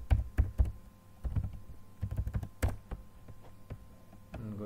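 Keys clatter on a computer keyboard in short irregular bursts of taps, close and fairly quiet, with brief pauses between runs and no talking.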